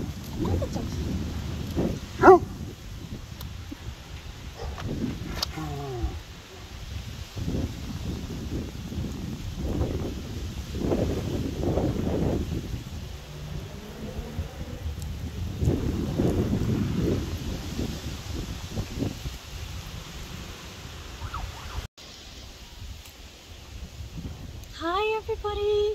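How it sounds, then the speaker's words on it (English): Gusty outdoor wind buffets the microphone in strong low rumbling surges, broken by brief lulls, with a few short vocal sounds near the end. "It's quite windy today."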